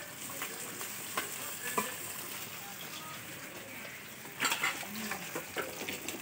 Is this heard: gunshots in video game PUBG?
no